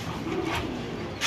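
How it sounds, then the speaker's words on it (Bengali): A pair of pigeons offered for sale at a bird market, giving a short soft coo nearby, followed by a brief brighter rustle or flutter at the end. "এখানে আছে আরেক পেয়ার কবুতর"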